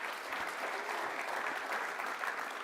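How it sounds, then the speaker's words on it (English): Steady applause from an audience at a county chamber of commerce primary election candidate forum, a dense even patter of many hands clapping at moderate level throughout, with no voices over it. "go ahead and clap for them"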